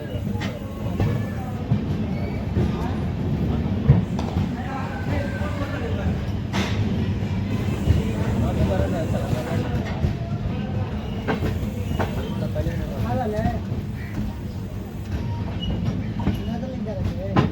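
Dikshabhoomi Express, the Kolhapur–Dhanbad train, runs steadily along the rails near Latur Road, with a continuous low rumble and rhythmic wheel clatter at close range, with faint talk at times under the rolling noise.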